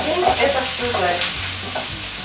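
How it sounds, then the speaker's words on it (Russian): Pork frying in a wok for a Chinese sweet-and-sour dish, a continuous close sizzle with scraping stir strokes of a utensil against the pan, loud and steady throughout. "30 секунд это все жарится"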